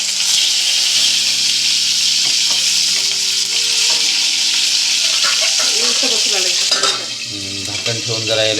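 Cumin seeds and peanuts fry in hot oil for a fasting-day bhagar dish, giving a loud, continuous close-up sizzle with some stirring and crackle, and someone talks over it throughout.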